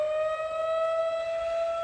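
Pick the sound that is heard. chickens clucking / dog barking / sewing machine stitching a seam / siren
siren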